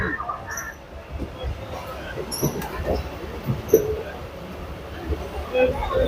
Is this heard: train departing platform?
yes